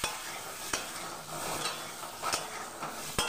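Boiled potatoes tossed with spices in a frying pan, the spatula scraping and clacking against the pan at a few sharp moments over a continuous close sizzle; no talking.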